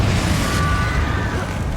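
A Confringo blasting spell explodes in the Hogwarts Legacy video game, a sustained, dense low rumble with a whooshing burst that holds steady across the short moment without distinct separate impacts.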